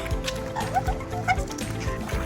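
A dog yips and whimpers in short, excited bursts on the way down to the beach, close by, with low thumps and background noise.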